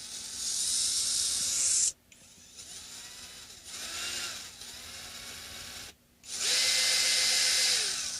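A handheld power drill bores into a guitar bridge saddle for an Epiphone Chet Atkins bridge, whining loudly in two long runs with a quieter, wavering stretch between them, close up and without talk.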